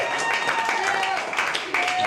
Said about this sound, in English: round of applause for the hat, Dave Weingarten